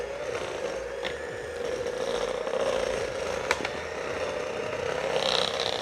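An electric mixer on high whips buttercream frosting with powdered sugar, giving a steady mechanical whir with faint rattling, close and constant, with no talking.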